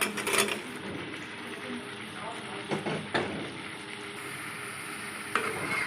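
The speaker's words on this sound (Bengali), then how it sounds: "এবার দিয়ে দেবো আলু ভাজাটা।" Fried potatoes go into spice masala cooking in oil in a pan for a Bengali fig curry, giving a steady low sizzle with scraping and stirring clatters and a few sharper bursts along the way.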